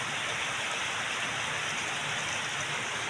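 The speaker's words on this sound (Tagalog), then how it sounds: "Ang ulan. Baha na naman." Steady rain falls on a surface in dark weather as flooding returns, a continuous even hiss of moderate loudness with no voices.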